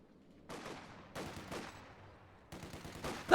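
An IR Pathfinders artillery strike salvo in Company of Heroes 2 lands as a string of fairly quiet, distant crumping blasts in quick succession, ending in a sharper, louder burst.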